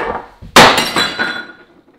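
Glass shatters close by in a kitchen while coffee is being made: one loud sudden crash, then a scatter of tinkling shards and small clinks fading over a second.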